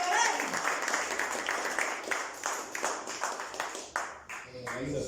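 Church congregation clapping during a sermon, uneven bursts of claps that rise and fade in waves, fairly close and moderately loud.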